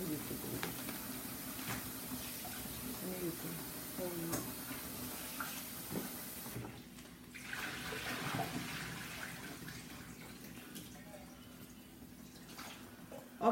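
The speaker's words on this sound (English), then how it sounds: "so I wash my fish off" A faucet runs quietly while cured pollock is rinsed at a kitchen sink, a soft, continuous splashing with a short break midway, and a voice is faintly heard nearby.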